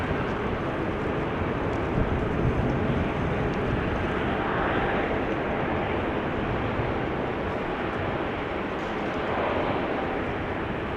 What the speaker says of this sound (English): Delta A330Neo probably just arrived